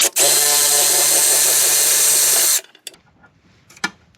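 A power tool spins off a 10mm nut on the steering linkage of a 2022+ Kawasaki Ultra 310 jet ski, a loud steady whir with a low hum lasting over two seconds, then stopping abruptly into faint clicks and handling noises.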